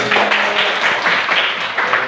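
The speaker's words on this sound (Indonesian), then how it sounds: "tepuk tangan Mbak Debbie." Applause from a group during a classroom discussion session: dense, steady clapping that runs close and fairly loud for about two seconds, with no talk over it.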